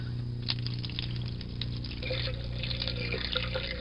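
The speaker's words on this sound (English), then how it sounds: "I can draw warm water." Warm water runs from a tap into a sink in a steady, close rush with light splashing and dripping, over a low hum and without speech.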